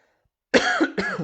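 Two sharp, throaty coughs in quick succession, close and loud after a moment of silence.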